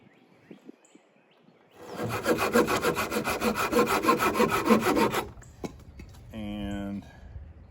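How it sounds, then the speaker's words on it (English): A handsaw cutting through a wooden split for a bow drill spindle outdoors: about three seconds of loud, rhythmic back-and-forth strokes, followed by a few light knocks and a brief voice. "let's cut it off right here."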